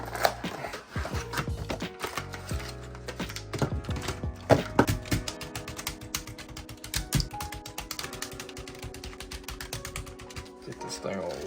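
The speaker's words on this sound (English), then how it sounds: "let's start adding our white keycaps onto the keyboard" White keycaps are pushed onto a computer keyboard one after another, making a string of sharp plastic clicks and snaps in uneven bursts, with music playing underneath.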